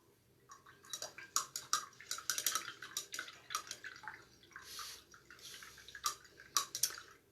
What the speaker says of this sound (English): I'm washing off my brush, you guys